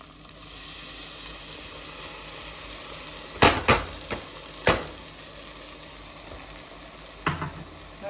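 Blended paste goes into a pan of fully fried onions, giving a steady sizzle and hiss of frying, broken by a few sharp clinks and scrapes of stirring.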